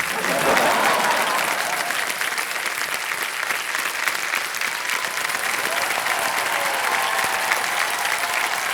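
Studio audience on a television quiz show gives a contestant sustained, even applause, a thick continuous wash of clapping that stays level throughout, with faint voices underneath.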